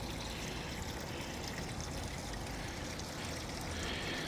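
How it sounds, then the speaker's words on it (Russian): Small waterfall by a footbridge over a little pond at a Kazan tourist complex, heard as a steady, fairly faint broadband rush of falling water that continues unbroken throughout with no voices. "Здесь водопадик небольшой"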